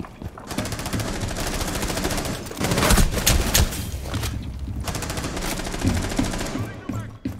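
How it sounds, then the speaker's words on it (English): Rapid gunfire from a shotgun in an online duo video game, loud and continuous with dense overlapping shots and blasts filling the whole stretch, while a voice speaks faintly under the noise. "This shotgun is so stupid"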